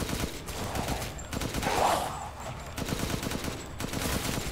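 Video game gunfire rattles in rapid bursts throughout, fairly quiet and steady with a short swell in the middle, with no talk heard over it.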